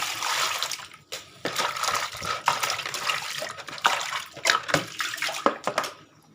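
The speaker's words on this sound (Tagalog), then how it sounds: "Tapos maghugas tayo ng pakbit." Vegetables are rinsed under a running tap, with a steady gush of water broken by uneven splashes and sloshing as they are handled, close by and fairly quiet, and no one talks.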